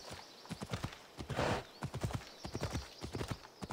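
Horse hooves clip-clop in a quick, uneven rhythm in the video game Assassin's Creed Odyssey, close and clear, with a short whinny-like snort in the middle.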